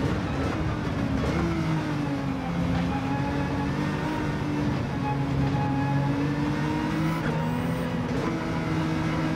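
Nissan GT-R Nismo LM race car at Spa in Gran Turismo 7, its engine droning loud and steady with clear rising and falling pitch sweeps as it shifts through the gears, heard alone.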